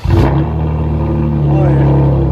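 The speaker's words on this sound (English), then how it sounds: "BORLA ATAK. Axle back with resonator still on it. True dual." A Chevy Camaro RS with a 3.6L V6 and Borla ATAK true-dual axle-back exhaust, resonator retained, holds a loud, steady low drone from inside the car after a short initial rise in revs.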